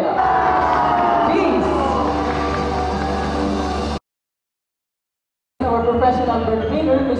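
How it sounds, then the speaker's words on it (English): An audience at a bird show in a Cebu safari park cheers and whoops for a white eagle, a loud mix of voices and shouts with music-like tones beneath, broken by a silent gap before the crowd noise resumes. "So a round of applause to our white galaxy eagle named Maria"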